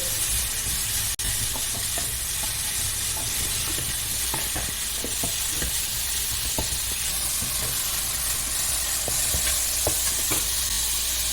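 Onions and tomatoes frying for chicken biryani, a steady dense sizzle and hiss throughout with scattered light clicks of stirring, close and constant, no talking.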